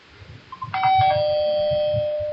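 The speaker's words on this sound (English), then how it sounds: "could hear the sound of doorbell" A doorbell sounds once, two quick chime tones that ring out and hold for a sustained moment before fading, fairly loud and close.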